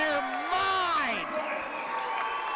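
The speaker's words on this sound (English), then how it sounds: "And the crowd is losing their mind." A basketball crowd roars and cheers after a three-pointer, a sustained wash of voices with whoops rising over it, while an excited announcer's voice sweeps loudly on top.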